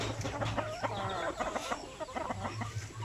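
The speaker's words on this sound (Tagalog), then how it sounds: "Kasi nasanay kasi itong mga native chicken na ito na hindi palaging nakakulong." Young native chickens cluck and chirp in a busy overlapping chorus close by, short bursts of calls scattered over a few seconds.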